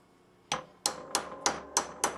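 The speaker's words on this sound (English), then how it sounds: "Now I'm using the kinetic bullet puller as my hammer" Six sharp, evenly spaced taps of a kinetic bullet puller used as a hammer, close and crisp with a brief ring after each hit.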